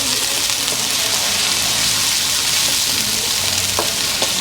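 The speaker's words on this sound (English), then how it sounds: "So let's go ahead and fry this a little bit." Wiri wiri peppers, fresh garlic and onion fry in a pot for Guyanese curry, giving a steady, close sizzle with faint stirring scrapes and no talk.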